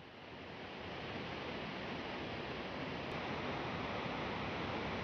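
Steady, dense rush of a waterfall at Cliff Falls in Maple Ridge, Canada, a continuous broadband roar heard alone with no voices, rising slightly at the start and then holding even.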